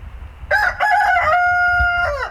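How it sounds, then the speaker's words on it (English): Barred Rock rooster crowing loudly and close, one full cock-a-doodle-doo with a sharp start and a long held final note, over faint background noise. "That's like your 6th or 7th cock-a-doodle-doo."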